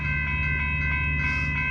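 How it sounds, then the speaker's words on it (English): Amtrak Capitol Corridor passenger train 737, led by a Siemens Charger locomotive, passing Bayfront Park in Pinole, California: a loud steady rumble with sustained tonal horn-like lines and rail noise throughout. "here comes Amtrak Capital Corner Train 737"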